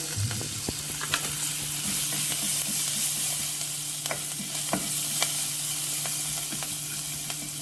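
Green chillies and curry leaves sizzle steadily in oil in a pan with scattered crackles and pops, plus a few clinks of a spoon stirring.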